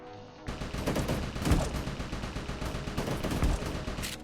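Rapid gunfire from a shooter game with infinite ammo and two weapons fired at once. A dense, loud stream of shots rattles continuously after a sudden start, with heavier thumps every second or so.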